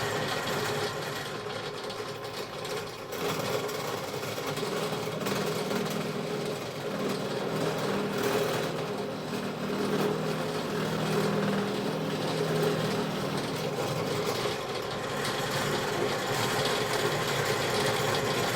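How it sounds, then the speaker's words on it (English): A power drill whirs continuously at a steady pitch, boring through wood for a cylindrical candle holder for a long stretch, with a brief dip early on. "Give it a quick drill."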